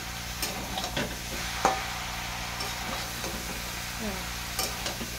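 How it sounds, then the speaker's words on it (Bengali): Cabbage stir-fried in a pan for vegetarian cabbage ghonto, with a soft steady sizzle and intermittent spatula scrapes and taps. "দেখুন বাঁধাকপিটা এভাবে কষে নেবো"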